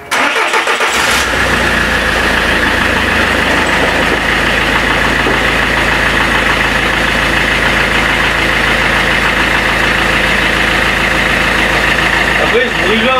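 Car engine idling steadily at close range after a curb strike, with a faint small clicking or knocking woven into the continuous engine drone throughout.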